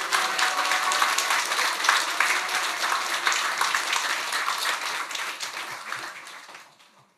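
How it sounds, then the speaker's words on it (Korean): Church congregation applauding to welcome a speaker, a broad sustained wash of many hands clapping that gradually thins and fades out toward the end, with little talk. "나오실 때 우리 박수로 할렐루야 환영하겠습니다"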